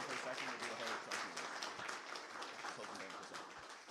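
An audience at an esports grand final gives a round of applause, clapping and cheering in uneven bursts, fairly faint and distant, with some voices mixed in.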